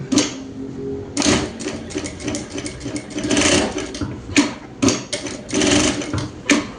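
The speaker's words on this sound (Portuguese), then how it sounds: "Eu vou passar uma costura em toda a volta e vou deixar esse espaço aqui pra gente abrir" Sewing machine running a seam around the edge of an apron, stitching in quick stop-start bursts with short pauses, close and clear with no voices.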